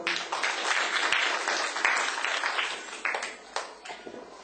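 Assembled audience at a Tamil public meeting claps to welcome a speaker to the stage: a thick, sustained patter of many hands, fairly close, fading slightly toward the end, with no voices over it.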